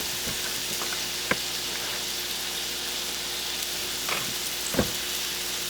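Large homemade meatballs frying in a pan, giving a steady close sizzle with a few soft knocks and stirring bumps over the hiss.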